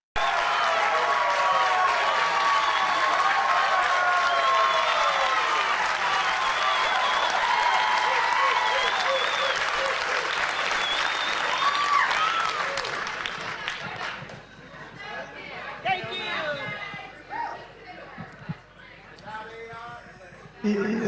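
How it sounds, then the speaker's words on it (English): A crowd boos and jeers a Republican congressman, a loud sustained wave of voices for about thirteen seconds that fades, followed by a single speaker talking over lingering crowd noise. "let us once again watch him get booed mercilessly"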